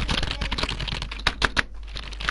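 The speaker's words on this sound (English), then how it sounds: "listen to me button mash on my keyboard" Rapid, frantic button mashing on a computer keyboard during an online shooter game, a dense run of clicky keystrokes with several sharper, louder hits near the end, heard close and without talk.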